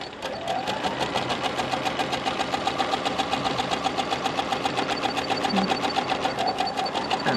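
A sewing machine stitches free-motion quilting on a churn dash quilt, running in a fast, steady rhythmic chatter close up and loud throughout.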